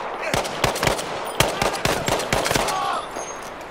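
Machine gun fire in the World War II shooter Battlefield V emptying its magazine: irregular bursts of sharp, loud shots for several seconds, then tapering off as the ammunition runs out, with a faint voice in the background.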